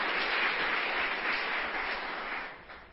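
A church congregation applauds during a sermon, a dense, even wash of clapping that holds steady and then fades away, with no talk over it.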